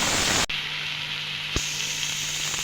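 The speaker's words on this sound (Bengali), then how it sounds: "দিয়ে আবারও ভালোভাবে পেঁয়াজের সঙ্গে টমেটোটা ভেজে নেব।" Onion and tomato fry in a pan for an egg malai cheese omelette, a loud sizzle that cuts off abruptly, then a quieter steady hiss with a soft knock partway through.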